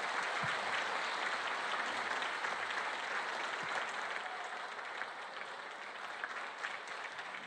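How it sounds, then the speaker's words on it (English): A school audience at a county Teacher of the Year celebration gives a teacher sustained applause, steady broadband clapping from a sizable crowd that holds evenly for the whole stretch with no talk over it. "Can we please give Ms. Candelaria another round of applause?"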